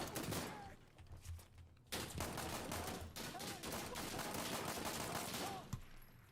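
Gunfire in the tactical shooter Insurgency: Sandstorm: dense, rapid bursts of shots with a brief pause, then continuous fire with short voice fragments and game sounds mixed in, fairly quiet overall.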